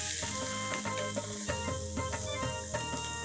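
Onions sizzle steadily in a hot pan with a constant crackling hiss and occasional scraping of stirring, close up with no talking.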